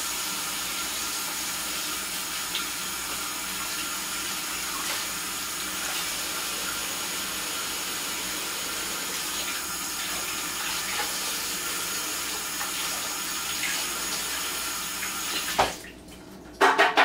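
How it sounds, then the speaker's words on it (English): Cold tap water runs steadily over asparagus spears in a kitchen sink, a continuous splashing hiss that cuts off near the end with a couple of clunks. "rinsing them up under some cold water"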